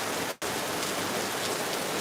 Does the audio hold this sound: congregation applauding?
no